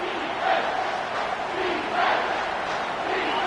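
A stadium crowd at an American football game roars without a break, a dense wall of cheering and yelling that surges slightly several times. It is loud and constant throughout.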